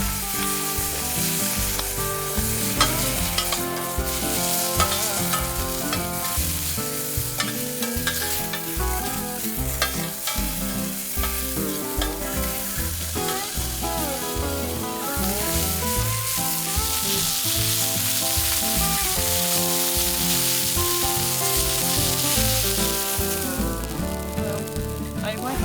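Sausages frying on a camp stove give a steady, loud, close sizzle and crackle, continuous throughout with no pauses and no talk over it.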